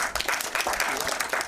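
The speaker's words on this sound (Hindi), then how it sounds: "तो एक बार जोरदार तालियां पूरी टीम की" Applause from an audience at a Hindi song launch event, a steady dense patter of clapping lasting the whole moment, moderately loud with some voices mixed in.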